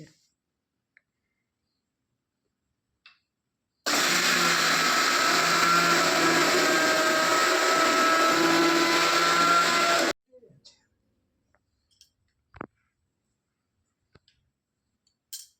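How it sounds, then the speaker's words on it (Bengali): An electric mixer grinder whirs loudly and steadily for about six seconds while grinding rice, starting and stopping abruptly, surrounded by near silence with a few faint clicks and knocks. "তা মিক্সিতে চাল গুঁড়োনো হচ্ছে"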